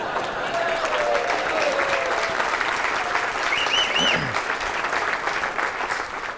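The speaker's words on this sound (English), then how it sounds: "Somebody clap for these folks." A crowd at a civic gathering in a large venue claps steadily for honorees, dense sustained applause with a few cheers and voices mixed in.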